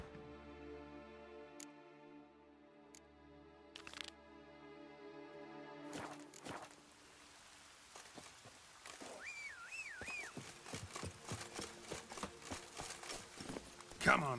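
Roach the horse trots in The Witcher III, hooves clip-clopping in a quick steady rhythm that grows busier and closer, with game voices and tonal sounds over the top.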